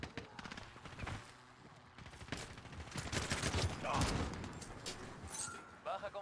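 Bursts of rapid gunfire in Call of Duty: Modern Warfare crackle over a busy mix of effects, with a louder volley near the middle and sharp shots toward the end.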